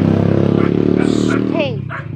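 A pet dog barks and yips close by at an outdoor provincial fish market, with voices talking over it throughout.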